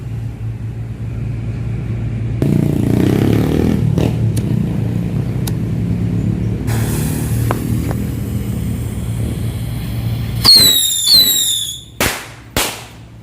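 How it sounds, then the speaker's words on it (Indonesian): A steady hiss and rumble of a burning fuse on a small mouse-type firecracker set on a cardboard box, then a sharp crackle and several loud, rapid firecracker bangs near the end. "itu dia tadi petasan cucurutnya. Ternyata meletus ya."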